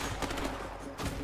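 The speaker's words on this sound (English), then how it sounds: "Oh, I got shot." Rapid gunfire rattles in the co-op video game A Way Out, a dense burst of shots with a fresh volley near the end.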